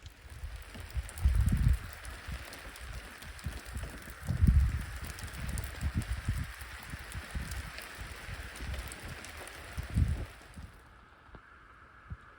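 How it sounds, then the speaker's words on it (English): Steady rain falls on a wilderness campsite in Woodland Caribou, a soft continuous patter with a few louder low gusts or bursts, then fading to near quiet at the end. "Still raining."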